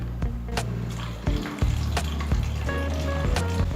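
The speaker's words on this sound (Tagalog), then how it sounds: "dito nyo ipapasok or ilalagay yung tubig" Water poured into the tank of a blue ultrasonic double-nozzle humidifier, a steady close liquid fill with small clunks and splashes throughout, no talking.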